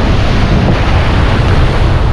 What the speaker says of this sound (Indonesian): ombaknya kenceng banget seperti ini ya